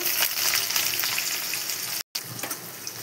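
Minced garlic with whole cumin seeds sizzles in hot oil in a pan for a Bengali dish, a continuous close crackle that cuts out for a moment before resuming.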